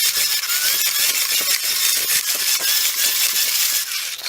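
Continuous whirring, grinding mechanical noise with a rapid rattling texture from a hand crank generator for charging a phone, steady and close, no voices.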